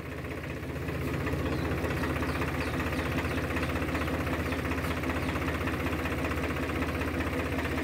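A Swaraj 744 FE tractor pulling a 14-disc harrow in third gear runs with a loud, steady, throbbing engine drone that builds within the first second and holds without a break.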